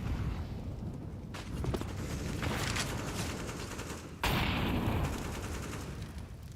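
Gunfire in Counter-Strike, bursts of rapid shots with sharp impacts and a loud blast near the end, dense and mixed with game effects.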